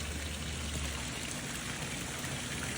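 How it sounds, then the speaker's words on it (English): Water from a backyard water feature runs and splashes in a steady, continuous outdoor trickle at moderate volume, with no voices over it. "The water feature, got it running right now."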